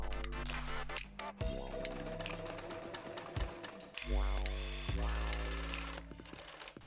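A sewing machine stitches a seam on a stretchy garment, bursts of whirring run with short stops and speed changes, close and fairly quiet.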